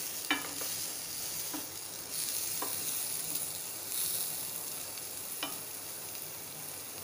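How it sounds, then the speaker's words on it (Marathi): Paneer frying in a pan, a steady soft sizzle running throughout with a few brief clinks of a spatula as the pieces are turned. "पलटी करून घेऊया हे बघा मस्त पनीर भाजलं गेलंय"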